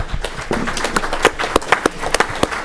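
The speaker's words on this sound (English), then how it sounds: "Can we give them a round of applause?" Applause from attendees at a city council meeting, a short round of scattered individual claps with distinct sharp hand strikes rather than a dense roar, close and fairly loud.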